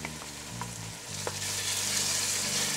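Onions, green onions, salt, garlic and tomato fry together in oil for Ethiopian gomen, a steady close sizzle building in intensity, with a few light utensil taps and a low background hum.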